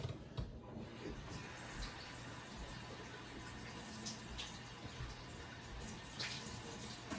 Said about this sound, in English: I'm going to start running the warm water